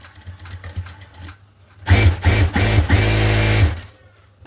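A sewing machine runs a double line of stitching on a blouse, a loud close whirring burst of about two seconds after quiet handling noises, then stopping.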